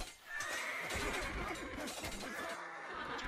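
A horse neighs in Age of Empires 2, a long whinny rising over steady game noise with clip-clop and crashing effects in a busy match.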